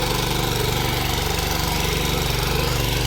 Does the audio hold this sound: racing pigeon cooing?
no